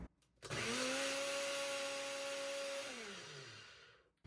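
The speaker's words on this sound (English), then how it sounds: "That's all you need the blender for" Blender whirring through a breakfast mixture, a steady motor whine starting abruptly, holding level for a couple of seconds, then winding down in pitch as it switches off, alone and moderately faint.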